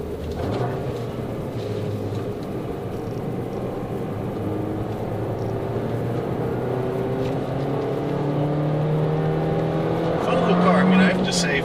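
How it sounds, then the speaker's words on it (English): Turbocharged car engine revving through its rev range as the turbo spools, a sustained drone with slowly rising pitch steps and a louder swell near the end, heard from inside the car. "it fluctuates a little as it runs through its rev range as the turbo spools to full speed"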